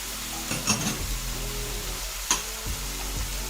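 Fried rice with chili sauce and soy sauce stirred in a frying pan, giving a steady low sizzle broken by a few scraping, clinking strokes of the spatula against the pan.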